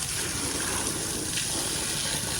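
Water jet spraying onto a Ford Endeavour SUV during a home car wash, a steady loud hissing gush that continues unbroken without any voices.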